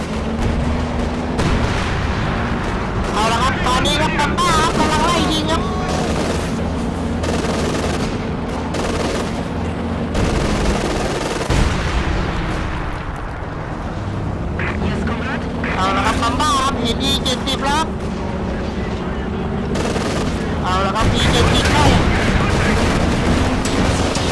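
Game gunfire crackles in repeated bursts amid a dense, loud soundscape of explosions and engine rumble, with voices speaking over it.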